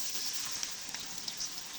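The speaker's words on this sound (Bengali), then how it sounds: "তেলের মধ্যে হাফ কেজি পেঁয়াজ কুচি দিয়ে দিব।" Chopped onions, about half a kilo, hiss steadily in hot oil in a kadai with a bright, even crackle that stays faint throughout.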